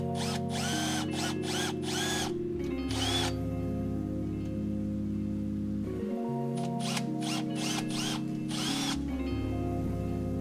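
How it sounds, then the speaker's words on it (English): A power drill whines in repeated bursts while drilling holes for a pedal install in a BMW F80 M3, its pitch rising and falling as it bites, close and loud, with no talking. "So let's go ahead, drill that hole"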